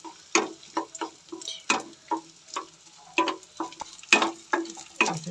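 Ingredients for methi ladoo are roasted bit by bit in a kadhai, with quick, uneven scraping strokes of a spatula that come in short bursts against a quiet background.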